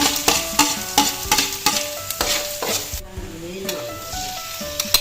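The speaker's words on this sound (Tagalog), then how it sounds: "kailangan munang papulahin ng kaunti yung bawang bago isunod yung sibuyas" Garlic and then onion sauté in a pan for lumpiang gulay, a constant loud sizzle punctuated by regular scraping stirs and clicks of the utensil, close up with no talking.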